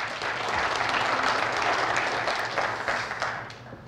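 An indoor audience at a Rotary district training session breaks into applause, a dense wash of clapping that holds steady and then tapers off near the end.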